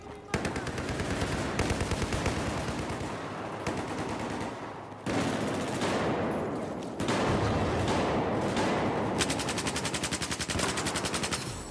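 Rapid submachine gun bursts in a Battlefield 4 multiplayer match, the PDW firing in long, dense strings of shots with brief pauses between bursts, loud and close throughout.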